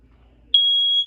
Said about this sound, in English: And speaking of smoke detectors, that's right up here.